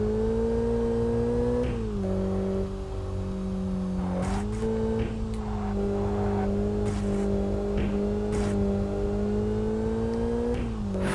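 A game car engine in Kaido Racer revs steadily and shifts through gears on a hairpin mountain run, a smooth sustained drone with pitch dips at each change, close and continuous with no talking.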